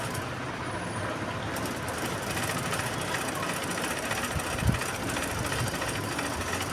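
Sewing machine stitching a blouse, a steady dense mechanical whir running throughout with a faint rhythmic chatter and one brief knock near the end.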